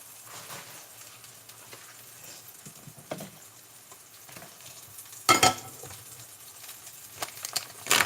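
Parmesan-crusted chicken frying in a pan, a low quiet sizzle with scattered soft pops and a few louder scraping or clattering bursts near the end.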